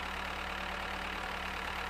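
A tractor engine running in the farming game Farmer's Life, a steady, droning idle rumble heard up close, with no changes in pace.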